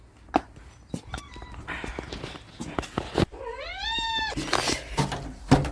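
A pet cat gives a drawn-out, rising meow partway through, close and clear, among scattered taps and rustling from movement nearby.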